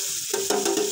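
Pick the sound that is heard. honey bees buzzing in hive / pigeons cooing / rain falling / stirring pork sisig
stirring pork sisig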